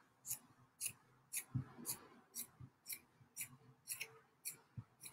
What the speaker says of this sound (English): we're gonna cut along this fold here